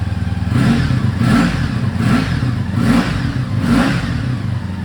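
Honda V65 Sabre VF1100S motorcycle idling stone cold just after a cold start, a steady close rumble with a gentle pulsing rhythm and no voices.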